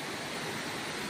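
Gondi Waterfalls rush in a brief, constant wash of loud, close falling water with no other sounds.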